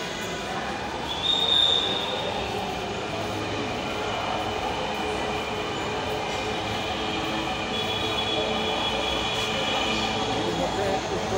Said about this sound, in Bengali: এর মধ্যে উত্তরার উদ্দেশ্যে মেট্রো ছেড়ে যাচ্ছে স্টেশন।